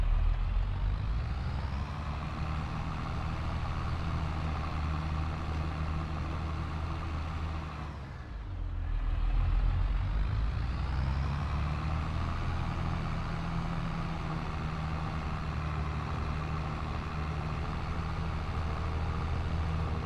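A combine harvester drives steadily in Farming Simulator 22, its engine droning loud and continuous, with a brief dip in pitch and level partway through before returning to a constant hum.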